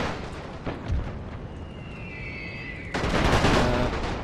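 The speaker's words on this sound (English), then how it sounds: "I'm kind of shooting through the forest" Gunfire from The Great War, a strategy game set in a Romanian battle, crackles steadily through a continuous din, swelling louder near the end with dense bursts of shots.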